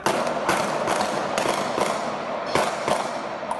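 Street clash with rapid sharp bangs, like gunfire, cracking out irregularly and fairly loud over a noisy outdoor background, with no talk.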